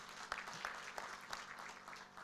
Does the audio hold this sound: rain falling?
no